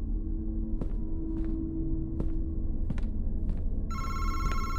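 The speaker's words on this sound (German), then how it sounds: "Telefon." A phone rings in the video game Madison, giving five evenly spaced electronic rings over a low, droning ambient background, with a bright tonal chime entering near the end.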